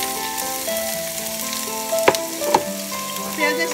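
Onions sizzle loudly in hot oil in a wok for a fish bhuna. The frying hiss is steady and close, with a couple of sharp clatters from stirring and a faint tonal hum in the background, and no one speaks.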